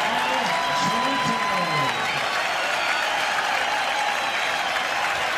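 Baseball crowd at Oriole Park at Camden Yards standing and cheering during a 1992 Indians–Orioles game, a loud continuous roar filling the whole span, with a broadcaster's voice briefly heard under it.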